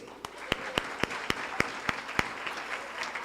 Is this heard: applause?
yes